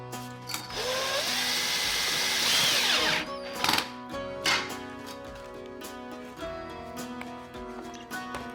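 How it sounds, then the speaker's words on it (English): A power drill whines for about three seconds as it bores through a small washer hole while an Otter Lodge ice shack is assembled, followed by a few quiet clicks and handling noises. "so you gotta drill through that too"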